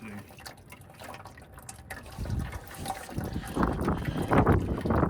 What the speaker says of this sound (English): Draining fluid. Leaking fluid.